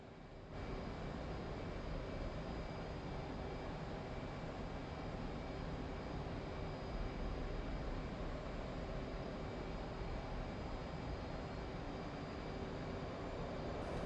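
An F/A-18 jet in a flight simulator game flies near Ushuaia in the South Atlantic fjords, with a steady, dense engine roar and a constant whine that fills the whole stretch without any break.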